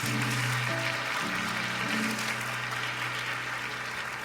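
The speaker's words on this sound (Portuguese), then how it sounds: "Vocês podem aplaudir essas crianças mais uma vez?" Children being applauded by an audience at a church service, the clapping dense and steady throughout, with a sustained musical tone underneath.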